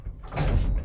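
The doors of an old apartment building's small elevator are pulled open, a short rumbling scrape and clunk heard close up with no talking.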